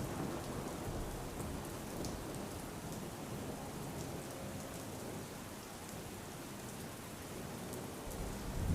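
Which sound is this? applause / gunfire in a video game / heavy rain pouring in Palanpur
heavy rain pouring in Palanpur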